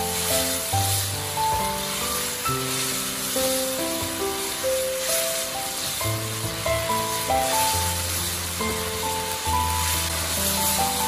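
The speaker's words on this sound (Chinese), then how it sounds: "这个时候用铲子不停地翻炒，把里面的汤汁不断地收拢，将土豆里面炒至入味。" Potatoes are stir-fried in sauce in a wok with a spatula, giving a soft, steady sizzling hiss that sits beneath louder tonal background music throughout.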